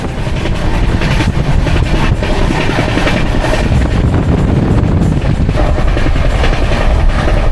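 A passenger train from Kolkata approaching New Jalpaiguri rumbles along the rails, a loud, continuous roar with rattling and wind noise heard from inside.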